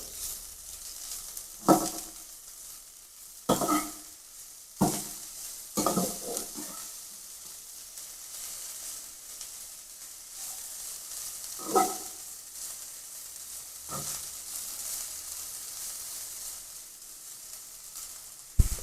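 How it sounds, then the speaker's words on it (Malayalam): Spiny amaranth thoran is stirred in a pan over a steady sizzle, with several scraping sweeps of a spoon at irregular intervals against the hot metal, close and moderately quiet without speech. "ഇളക്കിയൊന്ന് ഒന്ന് മിക്സാക്കി കൊടുക്കും"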